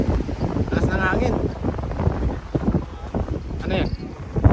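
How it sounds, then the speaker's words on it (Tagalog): Strong wind buffets the microphone at a beach with waves nearby, a rough, gusty roar that swells and eases, with people talking over it. "Taas ng hangin."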